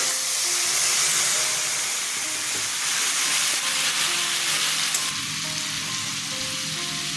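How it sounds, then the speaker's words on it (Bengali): Dried chilli, bay leaf and cumin seeds sizzle loudly and steadily in hot oil, a dense, continuous frying hiss up close, with faint tonal sounds underneath. "তেল গরম হয়ে গেছে শুকনো লঙ্কা তেজপাতা জিরা ফোড়ন দিয়ে দিলাম"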